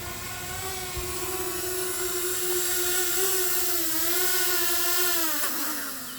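A small Hubsan Mini quadcopter drone hovers close by with a steady high-pitched whirring buzz, its pitch wavering slightly and dipping near the end as it is caught by hand.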